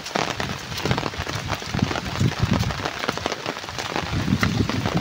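Steady heavy rain pours over flooded rice paddies ready for harvest in a Philippine province after a typhoon, a dense, even hiss of drops with no pauses.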